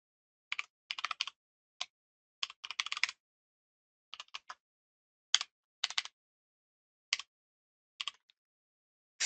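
Code typed on a computer keyboard in short bursts of crisp key clicks separated by quiet pauses, close and fairly soft, with no talking.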